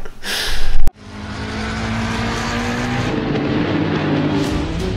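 A race car engine in the sim racing game Assetto Corsa, played on a wheel, drones steadily with rising tonal whine after a brief loud burst at the start, held at a constant close level with no talk.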